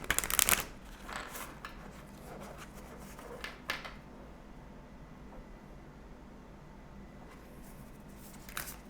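Cards being shuffled, with a brisk riffling burst at the start, then softer, steady sliding and rubbing of the deck close by.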